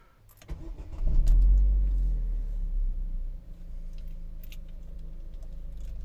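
A 2010 Opel Zafira with a 1.6 MPi petrol engine cranks and fires up, then settles into a steady, close idle that rumbles alone without talk.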